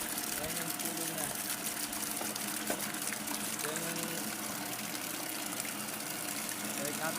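Water pump running steadily, with a constant rushing, gushing flow of pumped water filling the space, broad and continuous with faint mechanical undertones.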